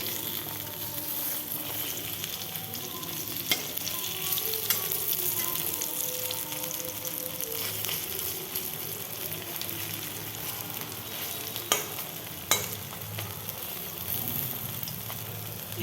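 Sago pakoras sizzle and bubble in hot oil, a continuous close frying hiss with occasional crackles and a couple of sharp pops or stirring knocks, no talking over it.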